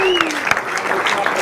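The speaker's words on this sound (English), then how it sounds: "Let's give our generous donor a round of applause right there." A round of applause at a Big Brothers Big Sisters bourbon fundraiser gala honoring a $5,000 donor, steady dense clapping from a room of guests with a few whoops and cheers throughout.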